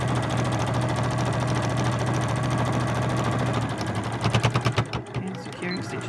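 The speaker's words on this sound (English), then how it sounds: "I've done it with an overlocker and straight stitch just for speed" An overlocker sewing machine runs steadily while stitching the side seams of NHS scrubs, giving a rapid, continuous mechanical chatter that breaks into short bursts of stitching and then stops near the end.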